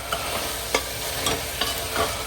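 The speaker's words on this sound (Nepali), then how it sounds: "एकछिन मजाले भुटे।" Tomatoes frying in a pan with salt and turmeric, a steady close sizzle broken by regular scraping stirs of a utensil against the pan, with no talking.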